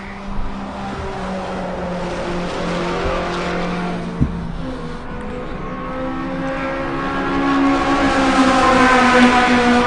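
Race car in competition at Buttonwillow racetrack sliding through a corner, a loud sustained engine roar with shifting whine and tire squeal, one sharp knock midway, building louder toward the end.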